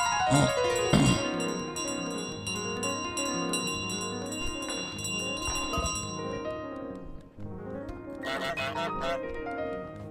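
Bell ringing in Untitled Goose Game, repeated bright clangs with long ringing tones over a light musical background, fairly close and without speech.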